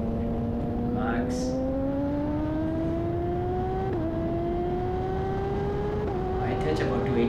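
A BMW S1000RR sportbike runs at full throttle down a track-day straight, its engine wail climbing steadily in pitch, with two quick upshifts briefly dipping the tone before it keeps rising, heard over steady wind rush.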